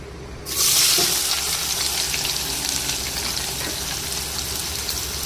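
Onions dropped into hot oil burst into a loud, steady sizzle that starts abruptly after a brief quiet moment and keeps frying with a bright crackling hiss.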